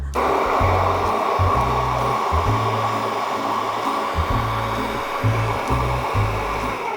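Food processor blending basil pesto made with apple cider vinegar, a steady loud motor whir filling the whole stretch with a pulsing, uneven low rumble as the blades churn.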